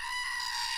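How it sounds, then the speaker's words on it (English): A goat lets out one sustained, strained bleat, close and fairly loud, filling the whole short moment without pause. "Is it the goat?"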